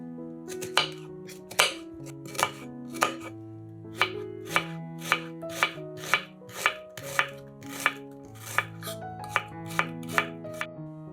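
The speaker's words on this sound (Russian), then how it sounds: "Одну луковицу нарезаем кубиками." A knife dices an onion rapidly and evenly against a cutting board, about two crisp strikes per second, with soft background music playing underneath.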